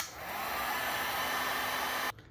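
Heat gun blowing on solder over a wire splice while repairing a brake light socket on a 2000 Toyota Sienna, a loud steady airy whoosh that runs for about two seconds and then cuts off abruptly.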